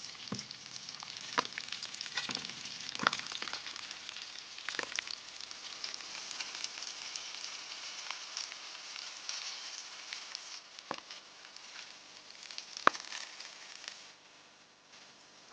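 Lamb chops seasoned with cumin and chili powder pan-fry outdoors on the Inner Mongolian grassland. A faint, steady sizzle runs throughout, broken by scattered sharp pops and crackles, and no voices are heard.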